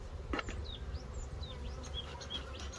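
Honey bees buzz in a steady drone at an open hive during a spring hive inspection, with many wingbeats rising and falling close by and no voices.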